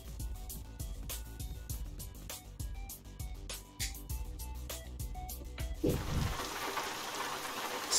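Rain in the truck-driving game Euro Truck Simulator 2 patters in irregular drops at a quiet level, then swells into a denser, steady wash of rainfall near the end, with no talking.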